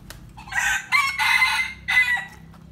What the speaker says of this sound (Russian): Тайский петух